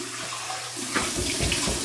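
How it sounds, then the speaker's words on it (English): Cold water runs steadily from a tap for a face rinse after a shave. It is a close, continuous splashing rush that swells slightly as hands meet the stream, with no talk. "So we're going to do our cold water rinse right now. Okay, here it is, cold water."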